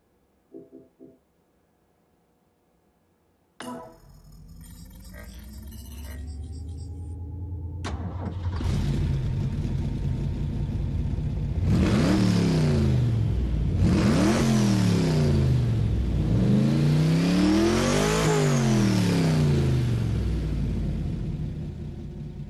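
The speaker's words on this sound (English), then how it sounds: "The four-wheel drive, four-wheel steering M12 FAV features a manual shifted transmission and a steering linked emergency brake." In Forza Motorsport 4, the Warthog M12 FAV, a four-wheel-drive, four-wheel-steering military vehicle with a manual transmission, starts up after a few faint clicks, then revs loudly and accelerates through repeated gear changes, each climbing whine dropping at the shift.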